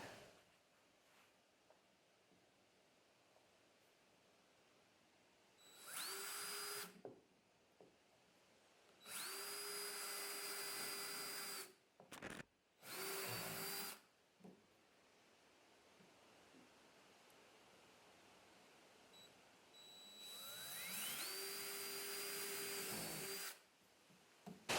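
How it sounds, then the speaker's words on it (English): A power drill bores two holes into a boat hull to fit a Bonafide SS127 rudder kit, heard as several loud sustained bursts whose motor whine rises in pitch and then stops, with quiet pauses between them. "I got those two holes drilled"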